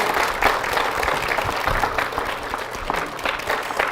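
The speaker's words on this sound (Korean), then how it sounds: "박수 맞아주십시오." Steady applause from a church congregation greeting a deacon called to the stage, dense and sustained for several seconds at moderate loudness, with faint low voices or movement beneath it.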